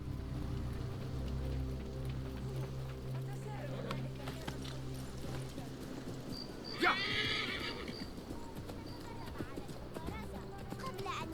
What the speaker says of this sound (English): Don't know why I've bothered getting on the horse, because you can't even make them gallop in the city